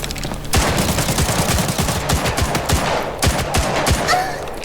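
Rapid bursts of automatic gunfire in the video game Arena Breakout: Infinite crackle nonstop, dense and loud, with overlapping shots and occasional sharper cracks.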